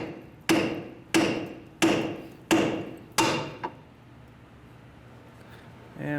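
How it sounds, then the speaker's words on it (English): Five sharp metallic hammer strikes on a tie rod end of a 2003-2011 Honda Element ring out at an even pace, each with a short decaying ring, followed by a quieter tap and then stillness. "So just going to use a hammer."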